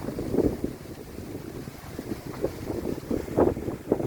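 Strong gusty wind buffets the microphone outdoors, rumbling in uneven bursts and surges.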